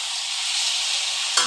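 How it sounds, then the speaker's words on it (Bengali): Vegetables and fish stirred and sautéed in a pan give a steady, even sizzle with soft stirring scrapes throughout, ending in a brief louder scrape or clatter near the close. "একটু কষিয়ে নেব"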